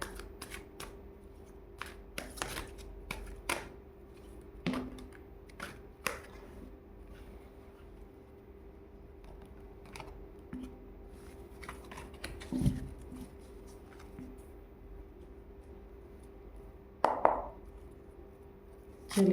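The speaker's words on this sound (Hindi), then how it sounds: "कार्ड्स निकालते हैं।" Tarot cards being drawn and handled close by, with repeated soft flicks, slides and taps of card stock in irregular bursts amid quiet pauses.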